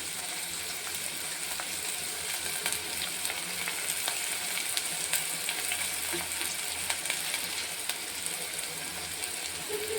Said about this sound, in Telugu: ఉల్లిపాయలు మగ్గుతూ ఉంటే అది పసుపు, ఉప్పు వేసుకుందాం.